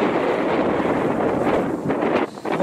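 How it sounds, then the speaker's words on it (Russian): Strong wind gusts across an open rural field, buffeting the microphone with a loud, continuous roar that eases briefly near the end. "Ветер поднялся."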